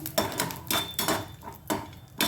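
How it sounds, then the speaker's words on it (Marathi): Grated coconut stir-fried in a pan for a Marathi-style brinjal dish: close, repeated scraping and clinking of a spoon against the pan in uneven strokes, with a soft sizzle underneath. "खोबरं पण छान असं लाल होईपर्यंत परतून घेणार आहोत."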